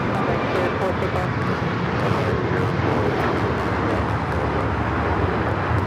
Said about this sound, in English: This is Alaska Airlines 1398 taking off to Mazatlan on the MAX 9